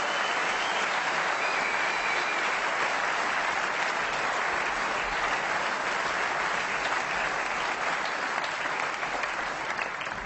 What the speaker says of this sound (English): let's give the two lads a round of applause as they go back to their seat